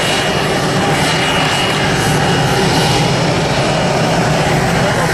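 Aircraft engine roaring at the STS-134 Endeavour final crew arrival: a loud, steady, continuous drone with no speech over it, holding level for the whole stretch.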